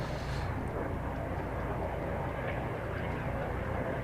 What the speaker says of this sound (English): is that the police helicopter or the air ambulance?